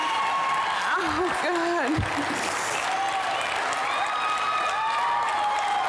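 Enthusiastic crowd applauding someone in a standing ovation at the Metropolitan Cooking and Entertaining Show, steady sustained clapping and cheering throughout, with a voice speaking and sobbing over it.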